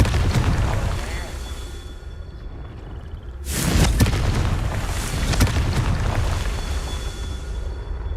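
Confringo explosive spell in Hogwarts Legacy, a sudden loud fiery blast bursting out of a quieter stretch of game ambience, followed by crackling debris and a second burst, with a voice calling out spell names.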